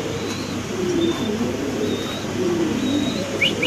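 Pigeons at a seller's loft coo in soft, repeated low phrases, several birds overlapping at moderate distance over a steady background hum, with a few faint chirps.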